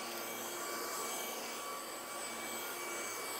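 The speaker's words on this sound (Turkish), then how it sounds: "Halıyı vakumluyor ve altındaki döner başlıklı fırça sayesinde de rahat bir temizleme sağlıyor." A Greenote GSC50 stick vacuum cleaner with a rotating brush head runs on its second power mode over a carpet, giving a loud, steady whine and airy roar with no breaks.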